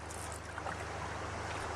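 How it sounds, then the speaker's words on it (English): Low, steady rumble of a boat on Derwent Water as wash from a passing motor launch slaps the hull, a continuous muffled drone with faint lapping, no talk. "when the wash from the motor launch hits our hull"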